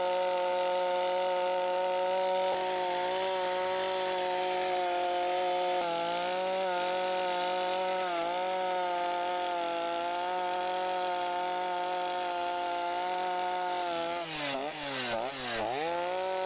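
A chainsaw fitted with a rotary gouge attachment carves wood, its loud, steady engine drone holding a constant pitch before dipping and wavering near the end as the cutter bites in, with no talk.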